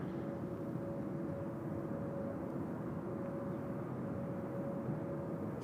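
A Boeing 747 jet taking off at Seoul Incheon Airport gives a steady, distant roar of engine noise with a faint whine, unchanging and continuous.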